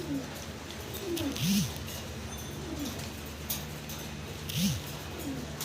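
Danish pigeons coo close by, two clear throaty coos with softer calls between them, over a steady hiss of background noise.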